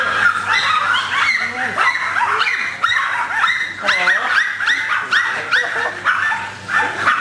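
A pack of puppies yips, barks and whimpers nearby in a kennel room, high-pitched whines sliding up and down between sharp excited barks.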